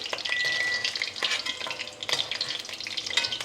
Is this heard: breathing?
no